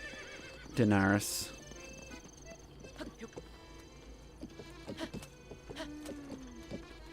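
A horse gives a loud, quavering whinny early on in the video game Breath of the Wild, followed by faint hoof clops and game ambience while a voice speaks briefly.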